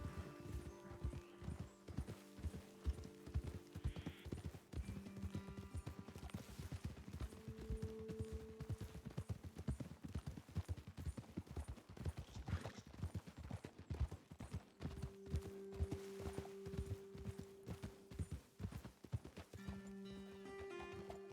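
Horses' hooves clip-clop steadily through the whole stretch in Red Dead Redemption 2, a busy rhythmic trot set against a sustained musical score, with an occasional whinny and no talking.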